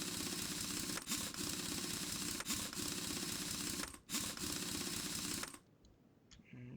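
Wheel bolts being fitted in the video game Car Mechanic Simulator 2021: a continuous whirring mechanical buzz broken by several sharp clicks and brief gaps, stopping abruptly before a few faint ticks at the end, with no voices.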